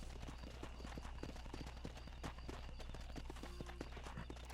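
Horse hooves clip-clopping at a steady walking rhythm in the Red Dead Redemption western video game, close and continuous over low game ambience.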